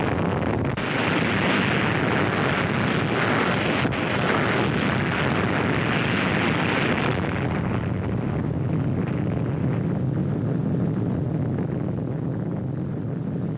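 The Baker underwater nuclear test explosion produces a loud, sustained roaring rumble that fills the whole stretch without a break, easing slightly in the later part.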